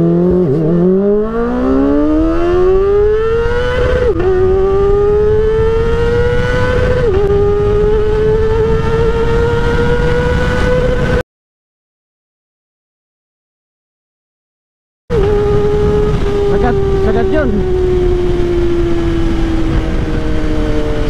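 Kawasaki ZX-4RR motorcycle with a changed front sprocket, engine screaming loud and close as it revs up through first, second and third gear, pitch climbing then dropping at each shift, with a brief silent gap midway.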